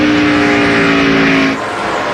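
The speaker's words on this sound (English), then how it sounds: "You can hear Ward Burton just roll out of that gas." A stock car roars at full throttle at the 2002 Mountain Dew Southern 500 NASCAR race, then the engine note drops sharply as Ward Burton lifts off the gas, leaving a lower, quieter drone.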